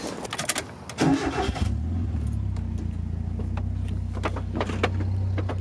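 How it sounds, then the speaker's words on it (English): A Mazda Miata cranks and fires up after some handling noises, then settles into a steady, loud, low idle rumble close by. "I guess while we're waiting for Will, I'll start it up and show you guys the motor and the car running."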